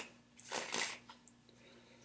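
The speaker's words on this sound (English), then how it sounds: "I'm shuffling some energy oracle cards" Energy oracle cards shuffled by hand in a quiet room, a short burst of riffling and flapping near the start, then soft scattered card taps.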